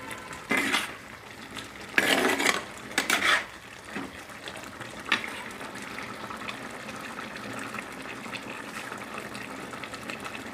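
Roasted gram powder stirred in a pot of home-style mango curry: a few bursts of scraping and sloshing against the vessel early on, then quieter, sparse clinks fading into low background.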